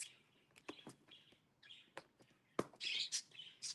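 Pet birds chatter in short, quick chirps and tweets, with several bright bursts and a louder squawking flurry near the end, close and fairly faint in a quiet room.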